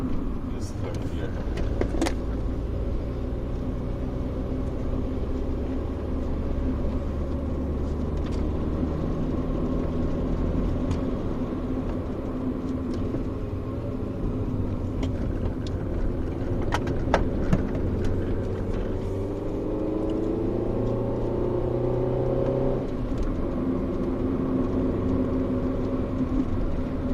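A Rover 400 car engine pulls uphill in third gear, a continuous low rumbling drone with shifting tonal hum that rises toward the end, close and steady throughout.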